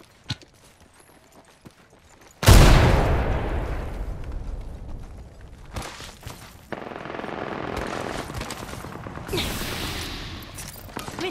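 In Apex Legends, a frag grenade goes off with a sudden loud blast and a long rumbling decay, followed by scattered gunfire and more crackling bursts.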